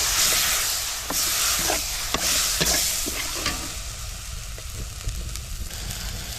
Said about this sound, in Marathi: तर आता आपण मिरची टाकूया.